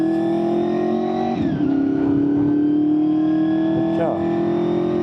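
A Honda VFR800fi motorcycle ridden at dawn, its engine droning steadily and pitching up as it accelerates, with brief gear-change dips, heard close from the rider's position.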